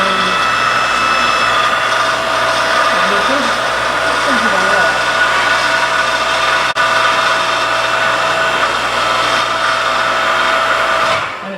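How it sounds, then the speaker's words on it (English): An Earthquake 5-ton electric log splitter with a fault runs close by with a loud, steady motor drone and hum that holds without a break, then cuts off abruptly at the very end. "We have an Earthquake 5-ton electric splitter, and it seems to have an issue."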